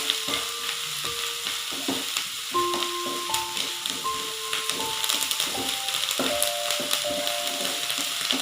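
Tempering spices sizzle and crackle in a pan while a dosa made with Delonix elata greens is prepared, steady frying hiss with scattered pops and faint clinking, close and continuous.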